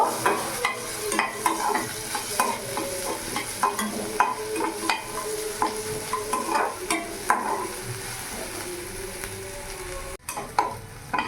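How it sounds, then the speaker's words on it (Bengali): Green chili, grated ginger and onion stirred and fried in a pan, with a steady sizzle beneath repeated rhythmic scrapes of a spatula, close and moderately loud. "ভালো করে আমি নাড়াচাড়া করে নিয়ে একটু কিছুক্ষণ ভেজে নেব।"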